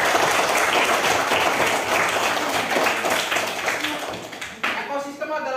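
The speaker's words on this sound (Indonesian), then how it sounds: "tepuk tangan dulu buat Eka." A classroom breaks into sustained clapping for a student, many hands applauding together for several seconds before the sound thins out and voices come through at the end.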